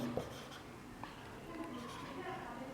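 A formula being written on a board gives light scratching strokes over steady background noise in a room, with a voice present.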